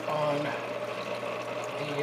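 Water churns and splashes in the sump of a 75-gallon reef tank with a DIY algae scrubber, a steady, fairly soft rushing and trickling sound.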